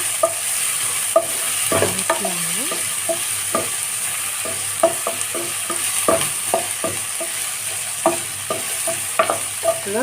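Sliced shallots and large onions sautéing in oil in a pan, a steady close sizzle with repeated scraping and stirring strokes of a spoon throughout, no talking.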